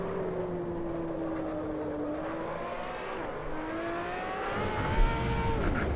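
Ferrari LaFerrari engine in the racing game Assetto Corsa at Spa Francorchamps, a loud continuous drone whose pitch climbs steadily, dips at a gear change, then climbs again into second gear.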